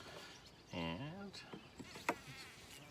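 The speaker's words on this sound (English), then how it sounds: "got a little carpenter bee in there." A carpenter bee buzzes close by near a top bar beehive outdoors, a short rising-and-falling drone in the middle of the clip, with faint background noise and a few soft clicks.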